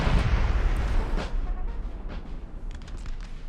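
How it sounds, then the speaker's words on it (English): Cannon artillery in the Napoleonic Total War 3 battle game, including a French 6-pounder: a loud rumbling barrage up front that eases into more distant booms and scattered pops. "But France is returning fire with their 6-pounder as well"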